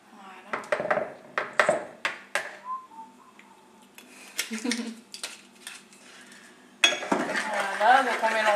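Spoon clinking against a bowl while stirring a mushroom marinade of soy sauce and olive oil, a run of quick sharp taps and scrapes, with a voice talking and whistling-like tones in between.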